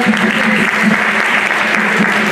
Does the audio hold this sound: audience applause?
yes